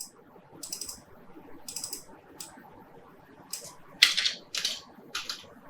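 Bursts of typing on a computer keyboard while entering values into an Excel spreadsheet filter, short clusters of quick clicks separated by pauses, fairly close over a low room hum.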